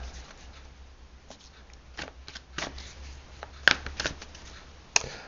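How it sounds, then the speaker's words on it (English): Tarot cards are shuffled quietly up close in soft riffling bursts, with a few sharper snaps near the end against a faint low hum. "let me just think about Jess for a few moments while I shuffle these cards"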